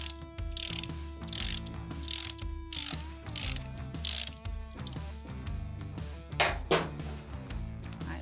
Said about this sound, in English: we are going to loosen the axle nut